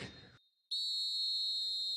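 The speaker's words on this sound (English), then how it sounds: "And the half-time whistle goes." A referee's half-time whistle in a football video game, one long shrill blast sounding loud and near after crowd noise.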